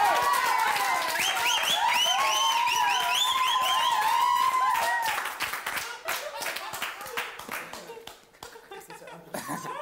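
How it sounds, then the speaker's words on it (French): A studio audience claps and cheers loudly for a guest named Philippe on a French reality TV show, with bright whistling or shrieking tones over the applause before it thins into scattered claps and noise. "Mesdames, Messieurs, veuillez applaudir Philippe."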